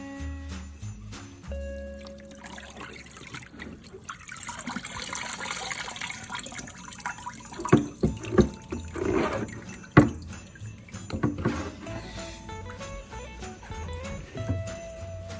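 Tap water runs into a kitchen sink while a brined turkey is rinsed of salt, a steady splashing flow with sharper clunks and sloshes as the bird is handled, near and fairly loud, no talking.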